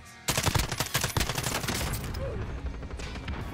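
Rapid automatic gunfire in Call of Duty Warzone: a close, loud stream of evenly spaced shots starting abruptly, then blurring into a sustained noisy wash of firing with faint voice underneath.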